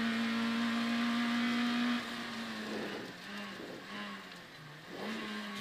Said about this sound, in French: Tu utilises trop ton frein moteur.